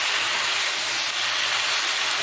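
Bottle gourd leaves sizzle in a hot pan as they fry with salt, a steady, even hiss of frying that holds at a constant level from start to finish with no talk.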